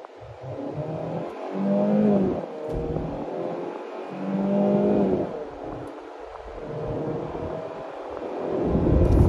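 A 2024 Hyundai Santa Cruz SE pickup with a front-wheel-drive 281-horsepower four-cylinder engine accelerates at full throttle from a stop, its engine note rising in pitch through repeated gear changes, loud and close with no talking.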